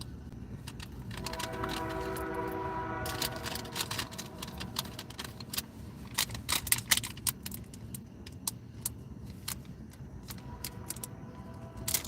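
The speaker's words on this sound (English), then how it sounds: "There's a train headed our way here, folks." A train approaches late at night, with a low rumble and a brief sustained tonal blast, mixed with scattered sharp clicks and rattles nearby.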